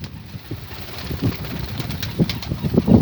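Domestic Bango pigeons coo softly in their coop, low repeated throaty calls that grow slightly louder toward the end over a steady background hiss.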